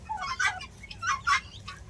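Farmyard fowl including guinea fowl, chickens and large turkeys call nearby in a village, with several sharp squawking and gobbling bursts over about two seconds, loud and close with no talk.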